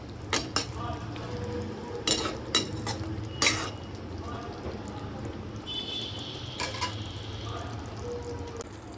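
Utensil stirring and scraping eggplant and puti fish curry in a pan, several distinct clinks and knocks over a low steady kitchen hum, no talking.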